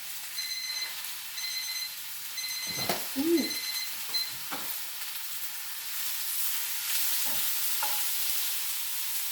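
Shrimp go into a hot pan and fry, with soft sizzling, a few clattering knocks and scrapes of utensils, and a faint intermittent electronic beeping in the background.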